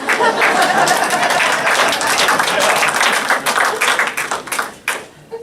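Comedy club audience clapping loudly, a full burst that thins into a few scattered claps and fades out near the end.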